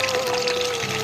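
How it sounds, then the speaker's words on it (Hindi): Milk pours steadily into a pot holding carrots and rice, a continuous, fairly loud close-up rushing and trickling stream with no break. "तो अभी मैं दूध ऐड कर रही हूँ।"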